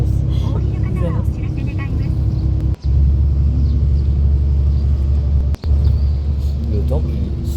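A steady low engine rumble fills the inside of a moving bus, continuous and fairly loud, with faint background voices and two brief dropouts.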